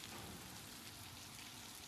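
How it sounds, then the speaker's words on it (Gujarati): Light rain falls steadily in an outdoor setting, a soft continuous hiss of drops at a constant low level with no voices. "પણ અત્યારે ધીમો વરસાદ જો પાછો ચાલુ થઈ ગયો છે."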